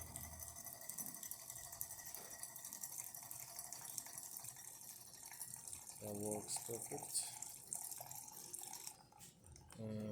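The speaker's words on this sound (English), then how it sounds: "let's test the steamer and the hot water." A DeLonghi Magnifica XS coffee machine dispenses hot water with a steady hissing, trickling flow that runs throughout, while a person briefly speaks over it near the end.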